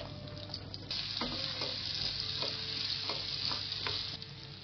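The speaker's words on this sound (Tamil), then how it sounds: "பூண்டு, இஞ்சி, அப்புறம் கருவேப்பில போட்டு வதக்கிக்கோங்க." Shallots, garlic, ginger and curry leaves fry in oil in a pan, giving a steady close sizzle with occasional stirring scrapes and pops throughout.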